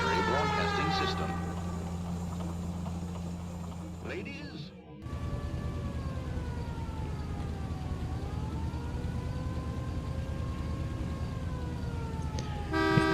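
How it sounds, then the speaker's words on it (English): A wailing siren in the video game L.A. Noire drifts up and down at a distance, steady for several seconds over a low rumble, after a brief burst of other sound at the start. "In this clip, I hear the sirens from a distance."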